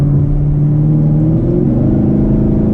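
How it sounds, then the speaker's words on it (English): Loud, deep engine drone from a 2018 Chevrolet Camaro SS with open exhaust valves, throaty exhaust rumble, steady and close, rising slightly in pitch as the car accelerates. "I do have that exhaust open because, you know, you just want that sound."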